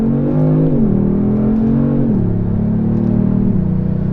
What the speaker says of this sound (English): So you can hear just how fast those shifts occur.